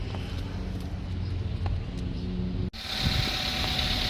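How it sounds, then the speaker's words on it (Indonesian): Engine of a 2009 Toyota Avanza G with manual gearbox, cold, starting and settling into a steady, smooth idle, close and continuous with a sharp change in tone partway through. "Nanti kita akan hidupin suara mesin mobil ini"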